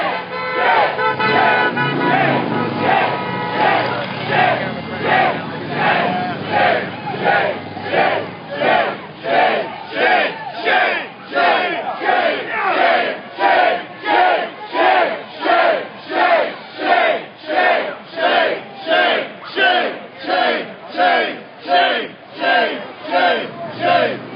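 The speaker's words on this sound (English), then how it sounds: "here comes the crowd chanting shame" A protest crowd outside a DEA, IRS and US Marshals raid on Oaksterdam chants "shame" over and over in a steady pulsing rhythm. The chant is loud and goes on for many repeats, and after a rougher start the beat grows even.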